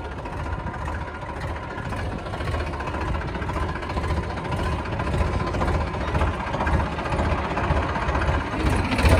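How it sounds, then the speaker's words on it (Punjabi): A tractor engine runs steadily nearby, a loud, continuous low chugging drone with a rough, rattling texture that holds even for about nine seconds, with no talking over it. "ਚਲੋ ਹੁਣ ਟਰੈਕਟਰ ਕਰਦੇ ਹਾਂ"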